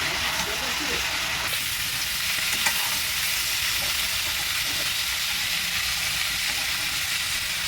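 Vegetables fry with turmeric in a pan, a loud continuous hissing sizzle that fills the whole stretch, with faint scraping from stirring underneath.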